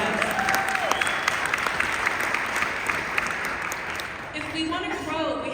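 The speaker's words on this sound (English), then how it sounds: "So everyone give Daniel and Tyson a big round of applause." An audience gives a round of applause at a company event, continuous clapping with crowd noise and a voice talking over it near the end.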